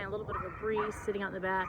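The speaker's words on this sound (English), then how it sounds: "Sorry if you can hear the dog barking because there's people out in the pool" A dog barks in a backyard while people are out in the pool, its yips mixed under someone talking outdoors nearby.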